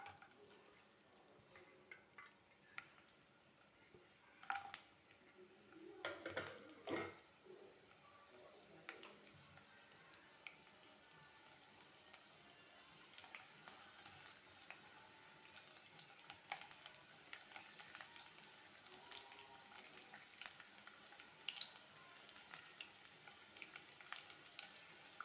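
Chopped garlic frying in hot oil in a pan, a steady crackling sizzle throughout with a brief louder burst of spattering and stirring early on, no talk.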